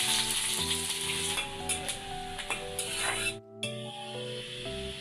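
Chopped onions and garlic fry in a pan, a close, steady sizzle with intermittent stirring scrapes, a brief dropout partway through, and a faint tonal hum underneath.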